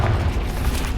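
A Confringo fire spell in the Hogwarts Legacy game lands as one short, deep, muffled boom with a rumbling low body, loud and close, over about a second.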